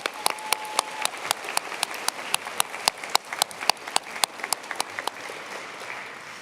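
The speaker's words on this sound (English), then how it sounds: "Round of applause for all those support people out there." Applause from an audience at a nursing pinning ceremony, a continuous crowd clapping with several sharp, close individual claps standing out in an uneven rhythm, no talking over it.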